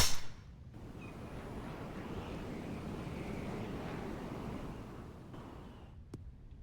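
Wind blowing across a golf course in the video game Open Championship Golf, a soft, steady rushing gust with a sharper burst at the start, continuing evenly throughout with no talk.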